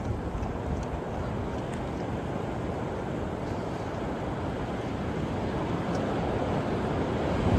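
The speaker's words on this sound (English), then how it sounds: "I don't know, the waves were pretty fast" Ocean surf rolling onto a beach as a steady, dense wash of broadband noise with wind buffeting the microphone, continuous and fairly loud with no voices.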